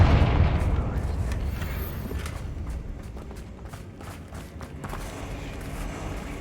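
A blasting spell explosion in the Hogwarts Legacy video game, a deep boom at the start that rumbles and fades, followed by scattered softer impacts and clatter.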